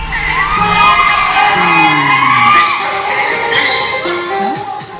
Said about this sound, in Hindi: सैकड़ों की भीड़, गानों के बोल पर झूमते लोग।